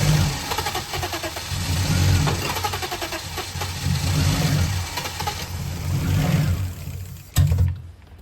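A BMW E34's engine, revived after fifteen years outdoors with a shot of brake cleaner in the intake, runs loud and close with a rough, pulsing idle that surges and dips in uneven waves before cutting off abruptly.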